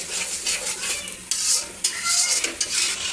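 Spice paste bubbling and spitting in oil in a pan while bagair fish is cooked village-style, a close sizzle broken by a few louder stirring scrapes and pops, with no talk.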